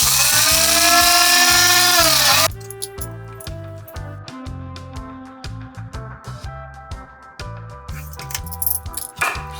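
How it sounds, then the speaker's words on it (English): An electric spice grinder whirs loud and steady on toasted spices for about two seconds, then stops, followed by rattling clinks and taps of the ground spices and grinder being handled close by. "Once cooled, grind each spice in the spice grinder."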